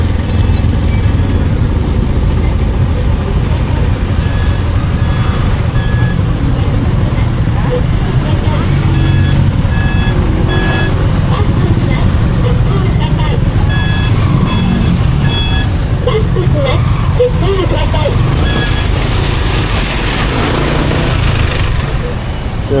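Rush-hour morning traffic on a wet street in Dipolog after rain, with a vehicle's reversing beeps repeating steadily over a constant rumble of engines and tyres, plus voices talking in the background.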